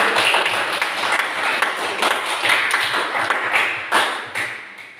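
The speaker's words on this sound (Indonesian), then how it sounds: "Tepuk tangan dulu" A classroom group claps after a student group's presentation, a few seconds of scattered hand claps and taps that thin out toward the end.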